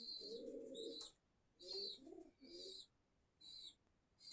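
Pigeons in a cage cooing in soft, separate bursts with pauses between them, close but quiet, with no talk.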